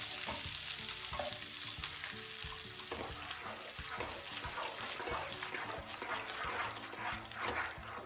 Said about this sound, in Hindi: अब इसमें मैं टमाटर सेक लूँगी।